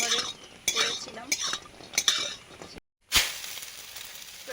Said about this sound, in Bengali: বড়ি ভেজে নিচ্ছি, বিউলির ডালের বড়ি ঘরে করেছিলাম।